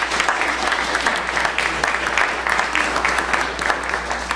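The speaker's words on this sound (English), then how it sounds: "we can all applaud ourselves and each other" An audience at a panel discussion on men and feminism gives dense, sustained applause. The clapping holds steady throughout, with a low background hum underneath and no distinct voices.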